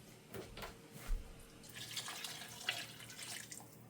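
Beef broth is poured into a cooking pot for pig feet, a quiet, continuous liquid splashing and trickling that swells slightly midway, heard close with no talk.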